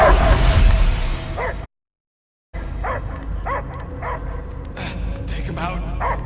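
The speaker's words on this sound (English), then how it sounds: "I hear only barking." A dog barking in the Marvel's Guardians of the Galaxy video game: a series of short, distinct yips and barks spaced out over game ambience, after a loud burst and a brief total silence.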